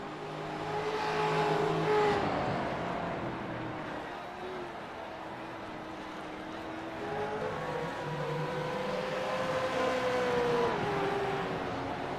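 Several race cars lapping a road course at Sonoma during a heat race, engines droning and shifting pitch as they run in pairs, steady and moderately loud with a commentator talking over them.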